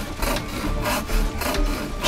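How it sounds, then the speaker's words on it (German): Steady back-and-forth rasping of a saw cutting through a wooden scaffold in the video game Sherlock Holmes: The Devil's Daughter, strokes repeating roughly every half second, close and continuous. "Schnell das Gerüst durchsägen."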